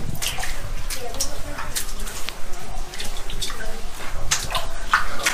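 Water splashing and sloshing inside a tunnel, with watery churning and drips across the clip, mixed with faint background voices.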